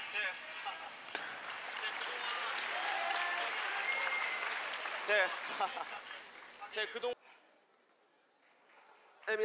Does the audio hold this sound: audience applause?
yes